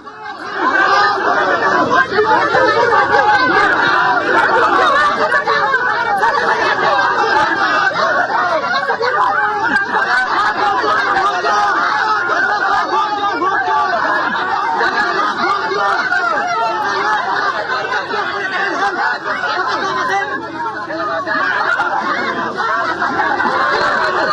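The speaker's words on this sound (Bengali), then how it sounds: "স্লোগান কি চলছিল দেখুন" A dense crowd shouts and chants slogans continuously during a violent attack on politicians, a loud, packed roar of many overlapping voices that keeps going from start to finish.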